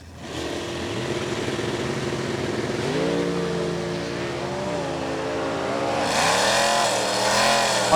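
Cavalier race car on a racetrack, its engine droning steadily and then revving higher with rising pitch through gear changes, continuous and fairly loud with no talk.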